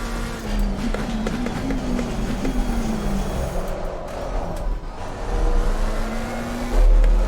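A race car engine growls on the Monza circuit in a sim racing game, a loud continuous drone whose pitch climbs, falls and climbs again as it revs, with a heavier surge near the end.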